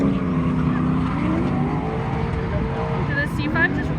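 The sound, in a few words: Chevrolet Corvette C5 car revving at drift event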